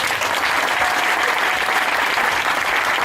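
Church congregation applauding together during a French-language Sunday service, steady dense clapping filling the whole stretch without pause.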